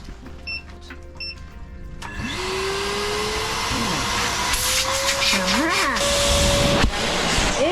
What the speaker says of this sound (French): Nous allons tester l'aspirateur.